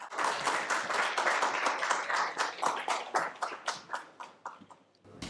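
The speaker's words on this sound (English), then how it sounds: "A huge round of applause for him, please." A small audience at a community launch event claps in a round of applause, individual claps distinct and rhythmic, loud at first and thinning out before fading near the end.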